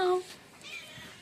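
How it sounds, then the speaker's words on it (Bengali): A cat gives one short, clear meow at the very start, followed by quiet room background. "আর এই যে কিটু, ওই দেখো টুকটুকি বসে আছে, ওই দেখো ম্যাও"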